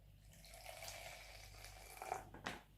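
Water poured into a camp cooking pot on the Pacific Crest Trail, a faint, quiet trickle and splash with a couple of brief sloshes near the end, no talking.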